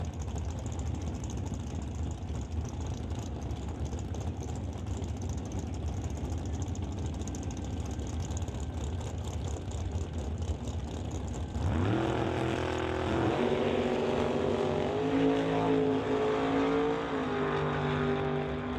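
A 55 Chevy Bel Air drag car idling at the start line, a loud steady engine rumble that jumps to a rising, roaring rev partway through, with no talk over it.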